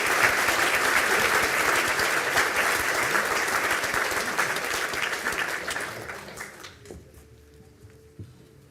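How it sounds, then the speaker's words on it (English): Audience at a Galway university conferring ceremony applauds nursing graduates, a dense, steady round of clapping from a large crowd that tapers off gradually over several seconds into a few scattered claps and room noise. "I call upon the graduates for the Bachelor of Science Honours in Nursing and the Bachelor of Science Honours in General Nursing to receive a round of applause"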